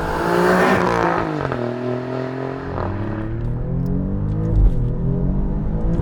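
Loud, close engine of an Alfa Romeo Giulia Quadrifoglio with a twin-turbo 2.9-liter V6, accelerating through several rising pulls with shifts between them, heard alone without talk.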